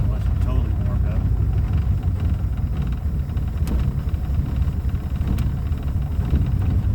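Cold 1947 Cadillac four-door sedan engine running at idle, a steady low rumble with a rough, uneven texture throughout, close by and fairly loud, with wind buffeting the microphone.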